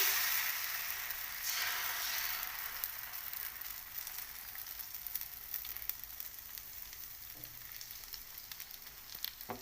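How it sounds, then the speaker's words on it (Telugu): Dosa batter sizzles and crackles on a hot oiled pan, a steady close-up frying hiss with a dense patter of tiny pops running continuously throughout. "ఆయిల్ పోసుకుందామండి ఇప్పుడు దోశ వేసుకుందాం అండి"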